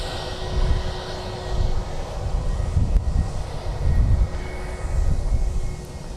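A KLM Airbus A321 at Birmingham Airport, departing for Amsterdam, gives off a loud rumbling jet engine roar that swells and fades in waves, with some wind buffeting on the microphone.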